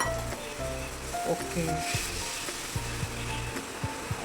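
Water added to a simmering gravy of jackfruit curry sizzles and bubbles in a pan, a close, steady hiss with small pops and stirring clicks, and a brief word from a voice.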